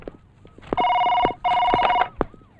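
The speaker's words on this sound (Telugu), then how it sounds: "సార్, మీకు ఫోన్." An office telephone rings in two long, loud electronic bursts of about half a second each, separated by a short gap, with only faint room noise around them and no talking.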